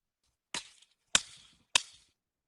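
A drumstick strikes a hard surface three times in evenly spaced, sharp, close cracks, each with a short decaying ring, alone in silence.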